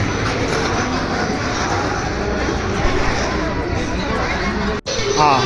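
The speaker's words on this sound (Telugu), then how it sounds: "ట్రైన్ అయితే స్టార్ట్ అయింది కాచిగూడ నుండి" Venkatadri Express train pulling out of Kacheguda station, a loud continuous rumble and rattle of rolling wagons that holds steady throughout, with faint crowd babble mixed in.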